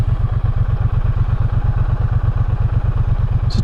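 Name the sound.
Triumph Bonneville T120 Icon edition motorcycle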